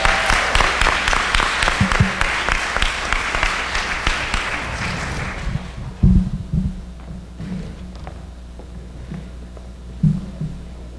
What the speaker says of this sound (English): Round of applause. Snap for him.